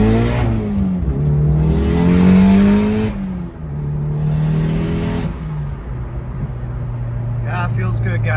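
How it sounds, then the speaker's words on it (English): A turbocharged second-generation DSM car with a dump tube accelerates hard through a short pull, engine rising in pitch through the gears with whooshing turbo and exhaust noise, close and loud, ending in a rising whir. "That new turbo just, oof, sounds so good."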